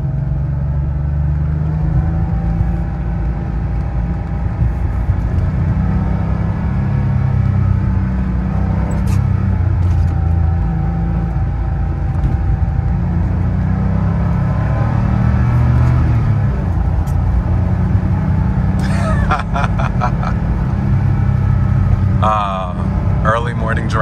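Air-cooled Porsche 911 engine droning steadily from inside the cabin on a rainy early-morning drive, a continuous low rumble with occasional shifts in pitch and brief clicks, while a voice talks over it.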